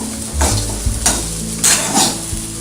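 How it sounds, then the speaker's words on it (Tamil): Elephant foot yam pieces frying in a pan, stirred in bursts, give a loud close sizzle and crackle with scraping strokes of a spoon, no voices. "அது கொஞ்சம் நடுவுலையும் வந்து கிளறி விடணும்."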